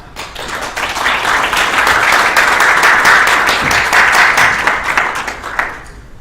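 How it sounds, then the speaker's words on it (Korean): A seminar audience at a global security forum breaks into sustained applause for a general's presentation, a dense, steady wash of many hands clapping that swells and holds for several seconds before tapering off. "전 장군의 발표를 큰 박수로 청해 주시겠습니다"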